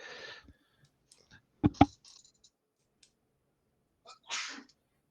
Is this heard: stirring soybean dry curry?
no